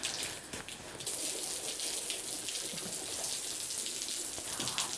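Water from a hose splashes and patters steadily across rubber matting in an outdoor yard, a continuous hissing spray that briefly breaks off near the start, with faint background sound and no talk.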